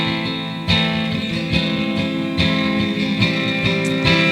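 Guitar chords from a song, strummed in a steady sequence of ringing chord changes, clear and close with no voice over them.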